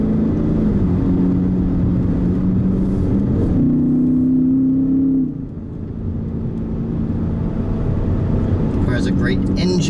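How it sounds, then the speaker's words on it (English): V8 of a 2017 Lexus GS F accelerating, a steady low drone that rises in pitch and briefly strengthens before easing off, recorded inside the car with talk over it. "Great engine note, if you can hear it."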